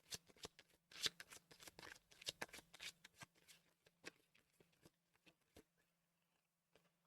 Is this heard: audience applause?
no